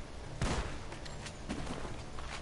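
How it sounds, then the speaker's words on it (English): Gunfire in the Red Dead Redemption 2 Valentine bank robbery mission: a loud, dense burst of several shots near the start, then a few scattered quieter shots amid a noisy background. "The gunshots are coming from that barn!"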